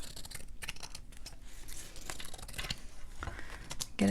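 Scissors cut through a leather-look cover layer in a run of close, crisp snips and crinkly slicing strokes, with no talk.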